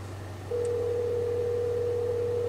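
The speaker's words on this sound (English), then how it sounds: "Calling Miles Johnson mobile" Inside a 2015 Hyundai Sonata, a CarPlay phone call plays a steady, unbroken calling tone through the car speakers over a low cabin hum, with no talking.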